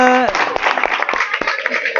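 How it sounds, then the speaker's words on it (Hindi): Group clapping for quiz teams at the final round of a Gospel of John quiz competition, a steady broadband patter lasting about two seconds, with voices and talk mixed in over the applause. "सब के लिए ज़ोरदार तालियां"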